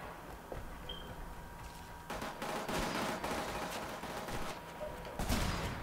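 Gunfire in Killzone Shadow Fall multiplayer on PS4: repeated sharp rifle shots and bursts, fairly faint at first and then denser and louder, rattling on in quick volleys.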